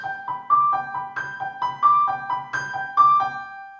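A solo piano plays an arpeggio at a faster pace, a clear, close, even pattern of repeating broken-chord notes with no voice over it.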